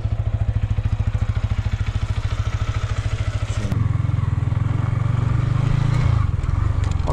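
Motorcycles run on a mountain road, their engines thumping in a steady loud rhythm close by, then the pitch and load shift into a smoother, stronger drone.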